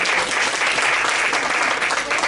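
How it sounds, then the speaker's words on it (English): A theater audience at a mind reading show applauds for a volunteer, a dense, steady burst of clapping close by that fills the whole moment without any talk. "Give Ann a round of applause"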